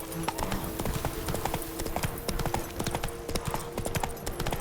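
Horse hooves gallop at a steady pace while riding in the video game The Witcher 3: Blood and Wine. A rapid, even clip-clop runs continuously at moderate loudness with no talk.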